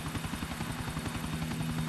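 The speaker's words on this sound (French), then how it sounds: "Vous allez voir mes talents en hélico." Helicopter flying in the video game GTA IV, a steady rhythmic rotor chop with a constant engine whine, fairly faint and unbroken, with no voices.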